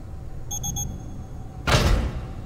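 A short electronic timer in FNAF: Help Wanted 2 beeps several times in quick, evenly spaced pulses, high and clear. A brief rushing whoosh, like a door, follows near the end.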